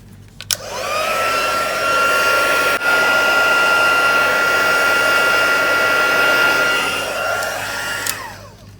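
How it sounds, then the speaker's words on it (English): A craft heat tool blasting air to melt embossing powder on a card runs as a loud, steady whirring blow for several seconds, clicking on and off at each end. "Going to bring the heat tool in. I'm going to heat that up, and what that's going to do is it's going to melt that embossing powder"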